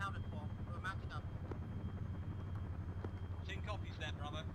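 A helicopter in ARMA 3 hums and thrums steadily in the background, a continuous low rotor drone under intermittent radio chatter and voices.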